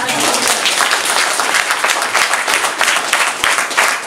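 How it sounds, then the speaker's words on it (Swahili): A church congregation claps for Jesus during a Swahili sermon, sustained loud applause from a large crowd filling the room with dense, continuous hand claps. "Naomba tumpige Yesu makofi."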